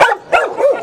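A scared black dog barks in short bursts, three close, loud yips and barks in under a second, alone with no talking.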